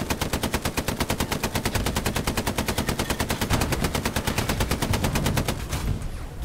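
Machine gun fire from Hell Let Loose rattles in one long, loud, evenly spaced burst of rapid shots, close by and continuous for about six seconds before stopping abruptly.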